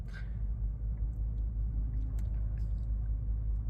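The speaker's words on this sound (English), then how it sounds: "V10 rumbles as it fires up" A 2007 Audi S8's V10 engine settles into a steady, deep idle rumble heard from inside a heavily insulated cabin, low and continuous with a faint whine on top and no talking.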